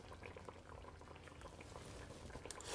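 A braised fish sauce simmers in a wok with a soft, continuous bubbling, low and faint, with small pops rising from the liquid and no voices over it.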